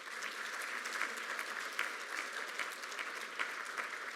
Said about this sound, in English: So please give them a round of applause again.